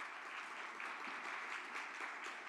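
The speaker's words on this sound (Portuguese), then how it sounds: "por favor, un fuerte aplauso para Adriana" An audience applauds to welcome speaker Adriana Barbosa at a conference, a steady, even wash of many hands clapping, faint and distant throughout.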